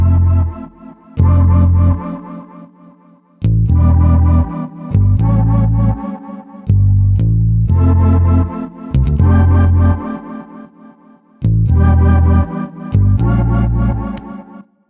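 A deep bass line and desert organ chords from the Sky keys synth play together in a sampled beat, with loud sustained bass notes and chorus-tinged organ stabs repeating in phrases, with nothing else over them.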